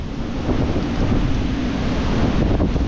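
Strong storm wind roars steadily and loudly against the microphone outdoors near trees and scaffolding, a continuous rumbling gust with no voices.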